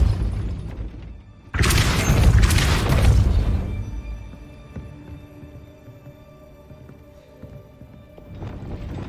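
A Depulso spell cast in Hogwarts Legacy lets out a loud booming blast with a crashing burst that fades into a lingering mechanical rumble and a softer thump at the end.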